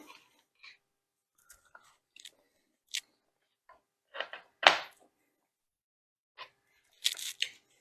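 Waffles being chewed up close, with scattered soft bites and crunchy chews separated by silence and a louder crunch burst partway through.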